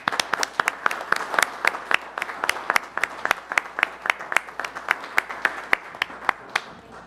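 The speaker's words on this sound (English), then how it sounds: "we give it one more round of applause" At a village board meeting, a small audience claps for several seconds in a sparse, uneven patter of distinct handclaps, fairly close and steady without cheering.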